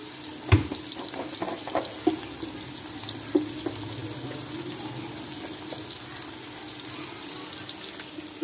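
Onions frying in a pan until golden, a continuous moderate sizzle with occasional pops and clinks of stirring.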